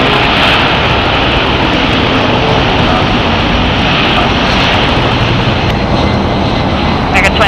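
A JetBlue airliner on takeoff roll from runway 25 right at LAX, a loud continuous engine roar filling the whole stretch without letup, with speech faintly under it.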